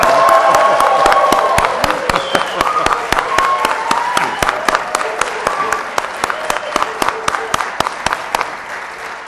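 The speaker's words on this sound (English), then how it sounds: "So let's give a round of applause and kick things off." A crowd at the NASDAQ closing bell claps steadily and densely, with sharp individual claps over a sustained wash of applause that gradually thins toward the end.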